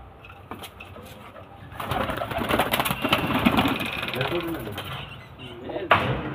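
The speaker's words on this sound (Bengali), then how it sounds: "এই বেবি পায়রাগুলো সবই সেল আছে" Baby pigeons kept together at a home loft coo softly and intermittently, with mechanical rattling and clicks, a busier stretch in the middle and a sharp knock near the end; no one speaks.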